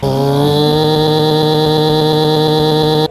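A steady, buzzy video game go-kart engine drone with a constant pitch, loud and close, holding for a few seconds before cutting off abruptly.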